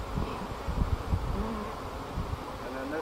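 Honey bees buzz around an open hive during frame handling, a dense close humming drone with soft rustling and low bumps underneath.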